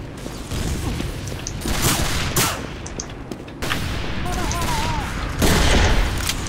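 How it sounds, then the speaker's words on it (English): Rifle shots and gunfire crackle in Team Fortress 2 as a sniper fires, several loud bursts and booms over a dense, noisy battle soundscape with brief voice-like chatter. "And there's a sniper trying to shoot you"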